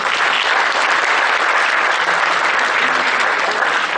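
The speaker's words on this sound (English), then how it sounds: "Round of applause" Dense, steady applause from a large seated audience at the close of a tax seminar session, loud and continuous throughout without a break.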